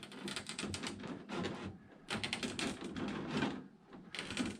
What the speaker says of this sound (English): These scissors that I'm using to cut this